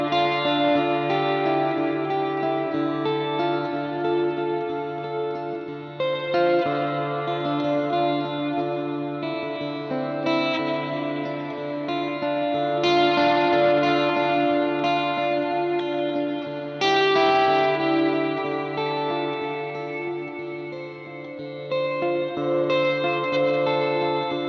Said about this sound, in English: Let's go to the long delay time. Again, long reverb time.